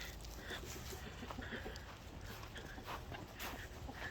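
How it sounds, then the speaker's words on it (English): Chickens in a backyard chicken tractor cluck softly at feeding time, with scattered short calls and some footsteps, faint and fairly distant. "I'm going to show you how to feed the chickens."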